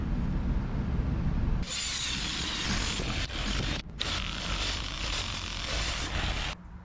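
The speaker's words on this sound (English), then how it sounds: "let's do some buffing" Steady rubbing and buffing on an Ibanez acoustic guitar under repair, a continuous close abrasive whir that holds for several seconds, then briefly cuts out and resumes before stopping.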